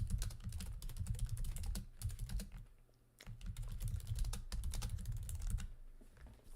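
Continuous rapid clicking of keys on a computer keyboard, close and steady with dense irregular taps, pausing briefly midway before resuming at the same busy pace.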